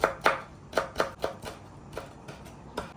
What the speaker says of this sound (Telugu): కొత్తిమీర కట్ చేసుకుంటాను ఇది కట్ చేసి పక్కన పెట్టుకుందాం